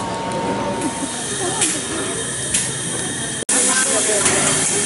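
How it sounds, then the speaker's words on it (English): Dollywood Express steam train, engine 70, rolling past at the theme park with steady hissing steam, rail rumble and occasional squealing wheels, loud and close, with people talking faintly nearby. "Absolutely love the Dollywood Express."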